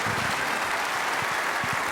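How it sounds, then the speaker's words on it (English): Dense applause fills the arena at the 2013 World Snooker Championship final between Ronnie O'Sullivan and Barry Hawkins, a steady, even wash of clapping throughout the brief moment. "Don't need to watch, just listen for the cheer."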